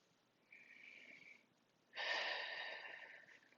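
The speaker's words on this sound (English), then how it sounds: "just gonna do some breathing," Two slow, deep breaths are taken close to the microphone: a softer inhale first, then a louder, longer airy exhale after a short pause, with no speech.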